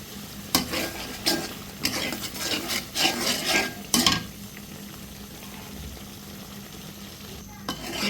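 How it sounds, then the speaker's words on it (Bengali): Fish being stir-fried in a pan, with repeated scraping and stirring strokes over a steady sizzle for the first half, then quieter frying that continues to the end. "এই যে মাছগুলো ভুনা করে নিচ্ছি।"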